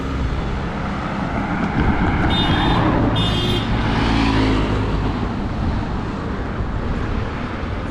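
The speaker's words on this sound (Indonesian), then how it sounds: "Kencang-kencang dia bawa mobil." A car driving fast along a wide four-lane bypass road in Lombok, a steady loud roar of engine and tire noise from inside or near the vehicle, continuous for several seconds with no talking.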